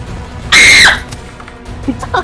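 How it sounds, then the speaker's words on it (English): A person playing Apex Legends lets out a loud, sharp scream lasting about half a second, followed by quieter squeaky vocal bursts and faint background game noise. "Stop screaming."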